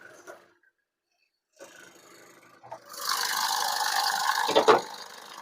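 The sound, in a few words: Ford EcoSport Titanium engine running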